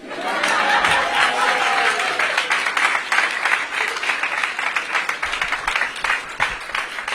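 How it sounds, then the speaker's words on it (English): A crowd applauds at a school opening celebration, a steady dense patter of many hands that holds for several seconds at close range. "let's give Will and Alicia a big round of applause for that wonderful introduction."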